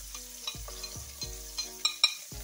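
Onion, garlic and chives frying in a pan as the base for a fish soup: a constant sizzle broken by a series of utensil scrapes and clinks that grow sharper toward the end.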